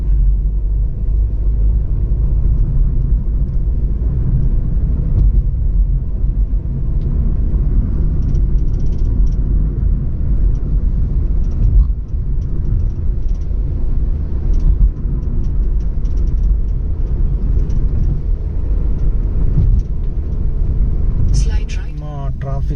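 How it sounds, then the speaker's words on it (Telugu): Heavy road traffic in the Ayyappa Society area of Hyderabad makes a continuous low rumble of engines heard from inside a moving vehicle, with voices at times. "ఫుల్ ట్రాఫిక్ ఉంది అయ్యప్ప సొసైటీ ఏరియాలో"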